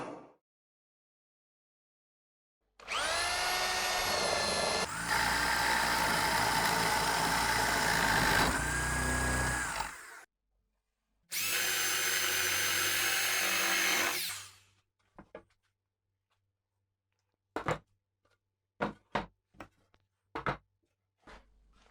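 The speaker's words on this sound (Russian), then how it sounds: "Отверстие будет диаметром 25 миллиметров. Я буду делать перьевым сверлом." A power drill with a spade bit bores a 25 mm hole while a lying-type beehive is being built. It makes a loud, steady whine in two runs, one about seven seconds and one about three. Sharp clicks and knocks follow as it stops.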